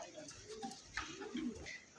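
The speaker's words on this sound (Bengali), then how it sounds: "চমৎকার একটা সিঙ্গেল একটা কিং কবুতর একদম দবদবে সাদা" A pure white King pigeon coos in a few soft, low, rounded calls, heard close by with people talking in the background.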